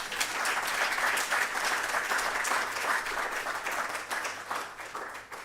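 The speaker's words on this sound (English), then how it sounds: "Let's clap for Noguchi." A conference audience claps together in sustained applause, a dense even wash of many hands that holds steady and then tapers slightly at the end.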